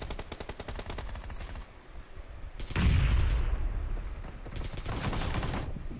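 Rapid automatic gunfire in a shooting video game rattles in fast, evenly spaced rounds, loud and close, broken by a heavier boom midway before the firing resumes in a steady stream.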